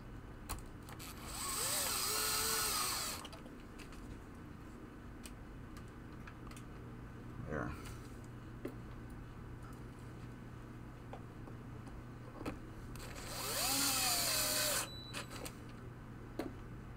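A power drill drives screws into a 1973 Williams Triple Action pinball playfield, in two separate loud bursts of a couple of seconds each, with quiet handling noises between them.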